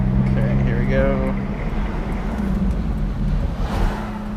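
A Ferrari F430 on a test drive gives a steady engine and road rumble from inside the cabin, with a brief rising rev early on and people talking over it.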